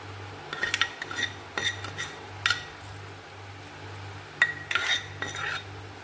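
A spoon scrapes and clinks against a bowl as hot tempering is poured into curd rice and stirred in. The sharp taps come in short bursts over a low steady hum, with no one talking.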